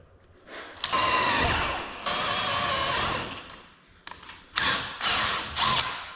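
A power drill whirs through a drilling job on a farm, running in several loud bursts of varying length separated by short pauses.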